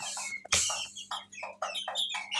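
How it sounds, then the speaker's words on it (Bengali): Desi hens on a small farm cluck in a quick run of short, close calls that overlap one another. "দেশি মুরগি আছে, অরিজিনাল একবারে পিওর দেশি মুরগি"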